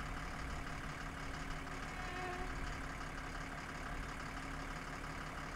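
The low, steady rumble of a truck engine running continuously while driving in the video game My Summer Car, with the vehicle struggling and moving poorly.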